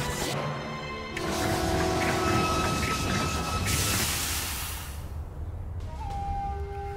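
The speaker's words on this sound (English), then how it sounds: "Eradicate the runaway train." A runaway train rumbles and clatters in the game Bloodstained: Ritual of the Night: a continuous loud mechanical roar with sustained tones and shifting intensity throughout, mixed with game effects and music.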